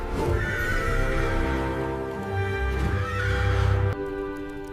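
A horse lets out a long, loud whinny that rises and wavers, followed by a quieter snort-like tail with little sign of hoofbeats.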